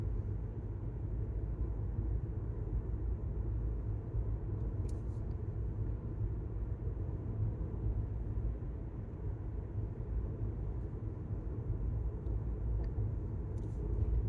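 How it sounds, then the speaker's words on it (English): Car cruising at about 35 miles an hour on a New Mexico mountain road, a steady low engine and road rumble from inside the cabin, constant and unbroken throughout. "Cruising along at 35 miles an hour"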